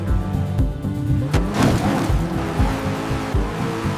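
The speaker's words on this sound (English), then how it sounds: "And now a roar of the engine echoes through the endless desert." A supercar engine roars loudly and close, with a sustained revving drone, rising and falling pitch sweeps and a brief sharp burst partway through, and no talk.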